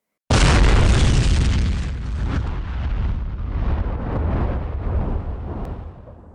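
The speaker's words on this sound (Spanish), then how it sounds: "se escuchó una explosión mucho más fuerte" A deep, powerful explosion from a floating movement gem erupts suddenly as a sound effect, then rumbles on in a long, dense roar that slowly fades, loud and with no voices.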